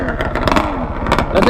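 A custom 130 hp Yamaha Banshee quad engine pulses and revs nearby at a racing lot. Its rapid two-stroke throb sits under excited talk for a second or two.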